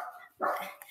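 A pet dog lets out a single short bark indoors, quiet and somewhat distant, after a brief faint sound and a moment of near silence.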